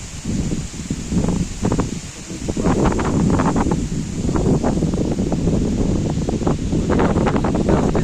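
Strong wind gusts through the trees of Swapnobithi Park in Naihati, a steady broadband roar with buffeting microphone wind noise that swells and eases over the whole stretch.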